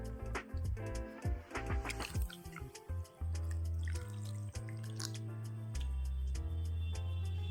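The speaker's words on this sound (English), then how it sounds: "I'm going to add more water." Water poured into a jelly slime mixture, with irregular dripping and splashing at first, then a steady, close, continuous trickle of liquid filling the container, with no talking.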